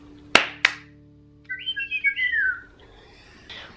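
Tiny Furries plush toys giving two sharp clicks, then a warbling electronic birdlike chirping melody of several quick notes, fairly close and clear in a quiet room.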